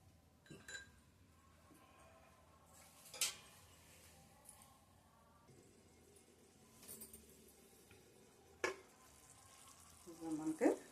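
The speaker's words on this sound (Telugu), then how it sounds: "ఒక ఐదు నిమిషాలు మూత పెట్టేసి ఉంచేస్తే చక్కగా ఉడుకుతుంది" Akakarakaya (spiny gourd) curry simmering in a covered pan: a faint, steady low sizzle and bubbling throughout, broken by a few sharp clinks of the lid or spoon, close and quiet with no talking.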